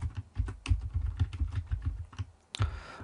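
Rapid typing on a computer keyboard while entering text in a word processor, a close, dense run of light key clicks with a brief pause before a final louder keystroke.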